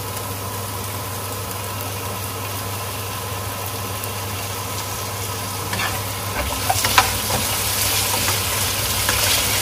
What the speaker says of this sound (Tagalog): So, i-fried lang natin yung patatas. Saka yung carrot.